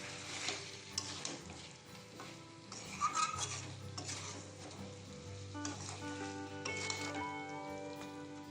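Chicken pieces are stirred in a pan with Kashmiri chili powder, dried chili powder and turmeric for a Bengali-style chicken curry. A quiet sizzle runs under repeated scraping and clinking of a spatula against the pan, with a faint hum throughout.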